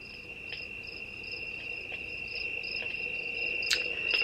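A sunrise alarm clock plays a cricket sound: steady high-pitched chirping that stays continuous and soft, with faint pulses and a light hiss underneath, alone without talk.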